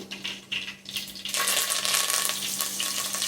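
Curry leaves with cumin seeds hit hot oil for a South Indian tempering, bursting into a loud, steady crackling sizzle after a quieter opening second, close and continuous with no talk.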